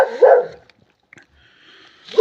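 Dogs on a cattle farm give two close, loud barks, one at the start and one at the end, with a near-silent pause between.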